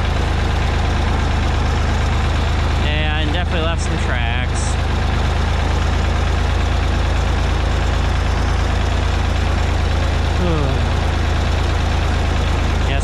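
A small Ford tractor engine idles and chugs steadily while pushing hay in a barn, a constant low mechanical drone running through the whole stretch, with a person talking over it partway through.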